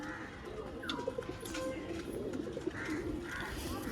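A female pigeon coos softly among loose-housed birds, low murmuring calls repeating over a busy background of rustling and faint chirps, with muffled human voices nearby.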